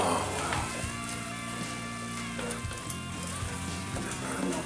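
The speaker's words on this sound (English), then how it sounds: "And look at that butter just go in there, huh?" Butter sizzles as it drops into a hot pan of mushroom risotto, a close, steady frying hiss running throughout with a voice speaking over it.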